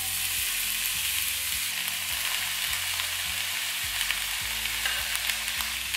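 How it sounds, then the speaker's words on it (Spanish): Garlic frying in a generous layer of oil in a pot, a steady dense sizzle running throughout with a low rhythmic hum underneath and no voices. "Ahora en una olla vamos a poner un buen fondo de aceite y vamos a sofreír el ajo."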